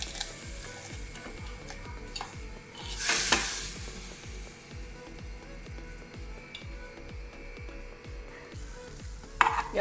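Green chillies crushed on a hot iron griddle sizzle steadily while repeated pounding and scraping strokes tick along in a regular rhythm, with a brief hissing flare partway through and a couple of sharp knocks at the close.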